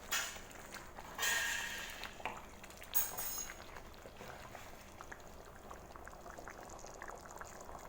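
Moong dal curry simmers in a pot with a faint, steady bubbling and a couple of brief louder clatters near the start.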